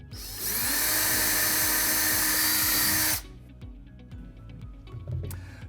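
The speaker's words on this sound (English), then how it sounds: "I'm going to start out by just drilling a hole into the wall." Power drill boring a hole into a wall to start a cut for an in-wall safe, a loud steady whine running for about three seconds, then stopping and leaving quieter tapping and handling noises.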